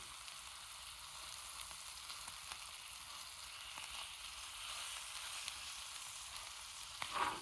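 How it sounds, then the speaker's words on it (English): Food frying in butter in a pan outdoors in the Appalachian woods, a soft, steady sizzle running throughout at low level, with a brief clink near the end and no talking. "Throw that third one right down in that butter. Let them cook up real good."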